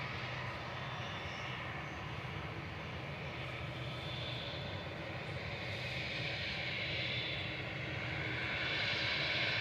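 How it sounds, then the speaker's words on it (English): A Kuwait Airways A320neo jet drones in steadily on landing approach over the runway threshold, a sustained loud engine roar that swells slightly toward the end, with no talking. "just about to come over the threshold is Kuwait 113 from Kuwait City, A320neo"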